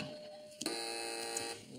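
A short electronic game show buzzer sounds, a sharp steady tone that starts abruptly and holds for about a second before cutting off.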